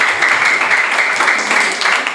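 Students in a ninth-grade science classroom clap for a presenting group, a dense, steady patter of applause from many hands, close and lively throughout, fading slightly at the end.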